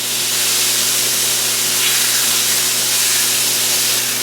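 Beef steak searing in a hot pan just after being flipped, a loud, steady, close sizzle and hiss with no talk.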